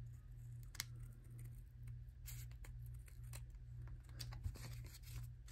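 Scissors snip around a paper Halloween craft piece, a quick series of faint crisp cuts over a steady low hum.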